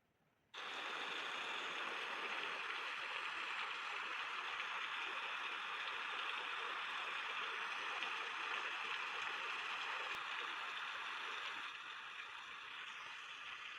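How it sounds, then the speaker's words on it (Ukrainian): A steady, even hiss of rainfall, continuous and fairly soft, with no voices, holding unchanged for the whole stretch. "Так, це шум дощу."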